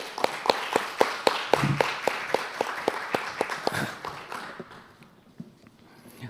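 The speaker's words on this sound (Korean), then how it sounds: "박수로 맞이해 주시기 바랍니다." An audience at a seminar claps in an even, rhythmic unison to welcome a speaker, the beats steady and fairly close before thinning out and fading away.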